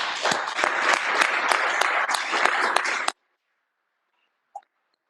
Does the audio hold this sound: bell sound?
no